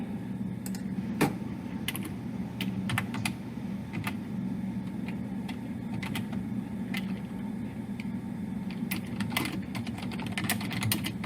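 Someone types on a computer keyboard while setting up an online class, giving irregular bursts of crisp clicks and clacks over a low steady hum, with no talking.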